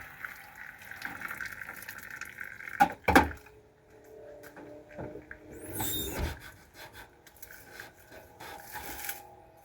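Water runs from a tap for washing, likely in a van or camper, with steady broadband flow, a couple of sharp knocks around the middle and a louder rush later, close and without talk.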